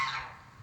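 African geese honking, a single short, faint honk fading quickly.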